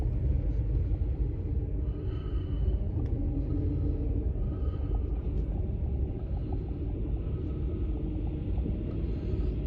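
A big piece of grading equipment grinds and breaks up snow on a residential street in Surfside, a heavy continuous low rumble with steady scraping and no talking.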